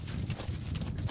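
Horse hooves clopping in the video game Metal Gear Solid V, a brisk steady rhythm of hoofbeats, close and fairly soft.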